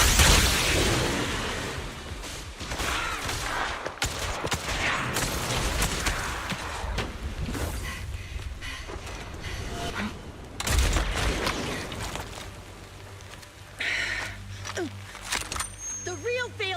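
In the Trigger Event video game, sniper gunfire cracks in a few sharp, booming shots spread through the clip among other game effects. A character's voice talks over much of it.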